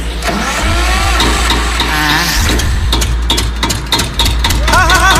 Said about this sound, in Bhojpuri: अभी हम तेल रह के जनरेटर चालू करते हैं